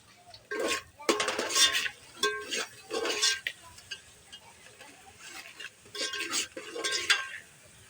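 Fish curry is stirred with a spoon in a pot, giving bursts of scraping and clinking strokes separated by quieter gaps, close and without talk.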